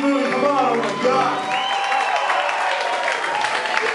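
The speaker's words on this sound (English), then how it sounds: "give a big round of applause for everybody that's about to come up" Applause and cheering from a crowd at a live show at the House of Blues on Sunset, a steady roar of clapping and whoops under a loud voice in the first moments.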